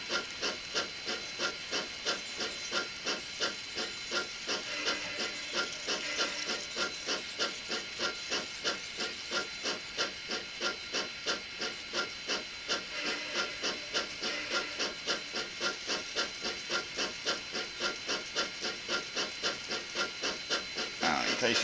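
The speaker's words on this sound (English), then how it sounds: "that's the Kato sound box doing the chuff chuff" A Kato sound box produces a steam locomotive chuff for an N gauge model LMS Crab, a quiet, rapid, evenly repeating chuff-chuff with hiss, steady throughout.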